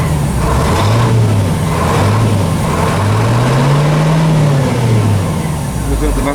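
A GMC 6000 truck engine running after its first start in years, a loud, close, continuous mid-pitched drone that rises and falls gently as the revs change, with a voice talking over it.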